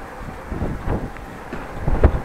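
Wind gusts outdoors on a sunny spring day along a harbour in Groningen, buffeting the microphone with low, uneven rumbles that swell toward the end, with no talking.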